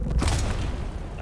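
A grenade blast in the Dune: Awakening video game, a short, heavy low boom with a burst of crackle that quickly fades.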